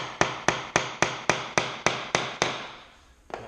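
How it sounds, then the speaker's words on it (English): A screwdriver is tapped into a glued hardwood floor board, giving eight evenly spaced sharp knocks followed by a pause and a softer final tap, close and clear with no talk. "I'm going to tap my screwdriver into it a little bit."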